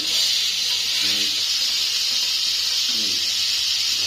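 Ginger garlic paste hitting a hot pan gives a continuous bright hiss, with a couple of brief faint voice-like murmurs beneath the steady sizzle.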